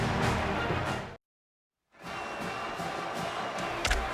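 A packed stadium crowd at a night Oklahoma college football game against Texas Tech roars steadily. The roar breaks off for a moment of silence, then picks back up with scattered louder shouts.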